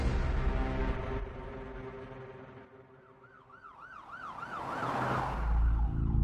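Emergency siren wailing loud and close with a rising and falling tone, over the rumble of a police car pulling up to a hospital in Nice.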